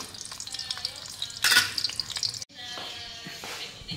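Hotdogs frying for a home breakfast, a steady close sizzle of oil running throughout, briefly interrupted by a louder burst and clatter of a pan or utensil.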